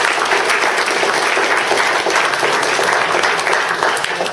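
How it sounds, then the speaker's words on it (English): Audience at a tech talk on real-time big data gives sustained, dense applause for speaker Cory Isaacson, steady and fairly loud throughout with no break. "I just want to give a great big round of applause to Cory Isaacson"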